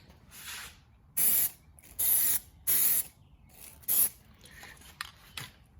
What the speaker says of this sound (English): And now I'm going to apply the 5th and final coat of the black.